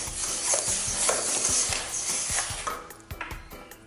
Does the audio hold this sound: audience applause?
no